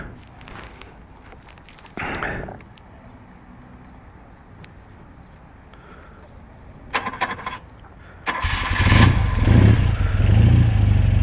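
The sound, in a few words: 1979 BMW R100S motorcycle engine starting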